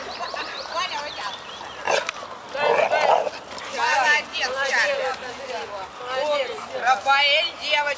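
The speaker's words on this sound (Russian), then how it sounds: "смотри, где твоя собака, Дим." A dog yips, whimpers and barks in short bursts at close range, mixed with people talking.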